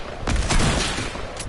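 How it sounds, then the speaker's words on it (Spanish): Explosions and gunfire in an online video game, a dense burst of booms and rapid shots that rises early and stays loud, with a further sharp crack near the end and no voices. "Si se oyen las explosiones"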